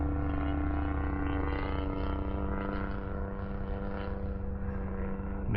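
Electric motor of a Legend Hobby 81-inch Super Chipmunk RC plane with a Stinger 40 running steadily at a crack of throttle, a constant close, loud whine and propeller buzz with rich harmonic tones throughout.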